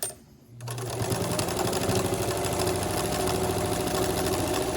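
A sewing machine back-stitches a seam on a homemade fabric face mask, starting after a brief quiet moment and then running as a steady, close, continuous mechanical whir with no talking.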